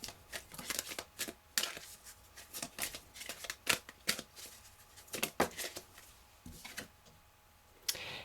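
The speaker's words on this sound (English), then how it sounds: "let me pull an angel card as well, an angel oracle card" Angel oracle cards are shuffled by hand, making a quick run of close, crisp riffling flicks and taps with a brief pause in between. No one speaks.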